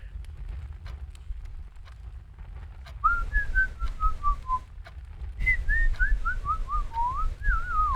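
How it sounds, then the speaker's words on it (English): A person whistles a wavering, melodic tune up close in two bursts, the second livelier, over a steady low rumble of room and wind noise. "So weirdly, my noise cancellation doesn't pick up whistling."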